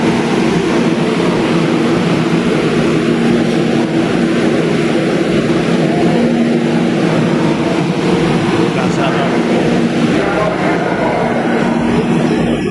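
Steady loud rumble and hum of a moving MRT metro train heard from inside a carriage, with constant droning noise throughout and faint voices mixed in.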